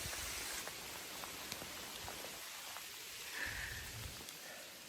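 Steady rain falls in a British rainforest, a soft continuous hiss of drops on leaves and ground with scattered faint taps, distant and even, with no voices.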